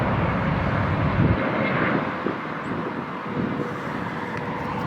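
A Boeing 777 jet airliner roars past at LAX, a loud, steady broadband engine rush holding throughout with slight swells and wind buffeting, no voices.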